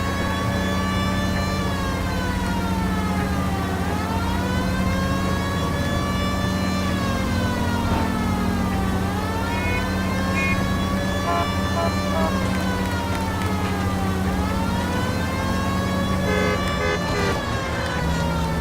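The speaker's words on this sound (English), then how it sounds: "Someone just hear my siren and respond to it" A police car siren in the video game L.A. Noire wails loudly and continuously, rising and falling in long repeated sweeps over a steady engine drone, with no talking.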